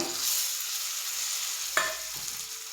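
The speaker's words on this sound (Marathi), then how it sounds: "तर आपण यामध्ये आता थोडेसे कट मारून घेतलेले अंडी घालूयात" Beaten eggs poured into hot oily masala in a pan for egg masala, giving a steady broad sizzle throughout with a sharp stir or clatter near the middle and softer stirring after, no voices.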